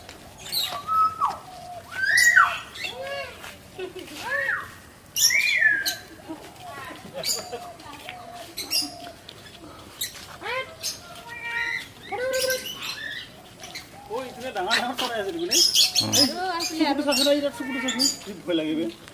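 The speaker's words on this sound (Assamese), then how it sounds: "এইফালে ধুনীয়া ধুনীয়া ডাঙৰ ডাঙৰ চৰাই আছে" Birds call at Assam State Zoo, with scattered chirps and whistled notes rising over steady chatter from nearby people throughout.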